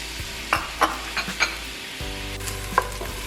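Chopped onion sizzles in olive oil in a pan for a Slovenian paprika dish, a steady frying hiss broken by several sharp clinks and scrapes of a utensil stirring against the pan, close and without talk.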